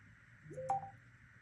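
Telephone dialing tones: a short cluster of electronic beeps in quick succession over a quiet background hum, brief and fairly faint, with no voices.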